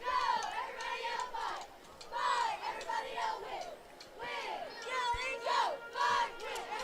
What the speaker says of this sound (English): Maybank cheer squad doing their best to energize the sidelines here